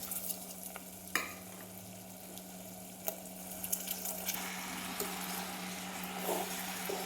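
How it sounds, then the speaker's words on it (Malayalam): Salted lemon pieces in brine tipped into a hot pan for a dates lemon pickle, a steady close sizzle and bubbling with occasional sharp clicks of a spoon stirring against the pan, no voices. "ഇനി ഇതിലേക്ക് ഉപ്പ് വെള്ളത്തോട് കൂടിയ നാരങ്ങ അതേപോലെ തന്നെ ഒന്നും ചെയ്യാതെ"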